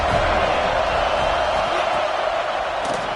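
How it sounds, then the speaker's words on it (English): A college football video game crowd, FSU against LSU, roars steadily on a third-down defensive stand, a dense, loud, sustained wash of cheering with no break. "Decibels rising as the crowd gets behind this defense on 3rd down."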